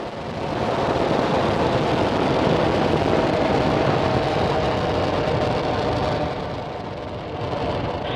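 A SpaceX Falcon 9 rocket lifts off on a Starlink mission, its deep broadband roar crackling continuously and filling the air before easing slightly toward the end, heard from a distance with no voices.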